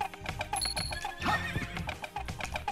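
Horse neighing and whinnying in Castlevania: Symphony of the Night, enemy riders on horseback, with clip-clop hooves and busy game music and effects throughout, whinnies rising clearly over the mix.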